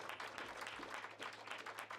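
Audience applause at a live podcast event, a brief, dense burst of many people clapping together in a room, steady and moderately loud.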